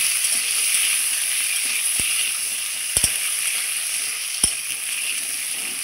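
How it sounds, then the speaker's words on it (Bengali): Potatoes with a little salt and turmeric sizzle steadily in a hot pan, a constant bright frying hiss with a few sharp clinks of a spoon against the pan as they are mixed. "আমি হালকা পরিমাণ লবণ দিয়ে দিলাম, হালকা পরিমাণ হলুদও দিয়ে দিলাম, দিয়ে এটাকে ভালো করে মিশিয়ে নেব।"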